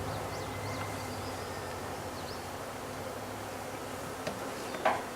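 A low, steady buzzing of many honey bees, close and constant, with a couple of faint clicks near the end and no talking.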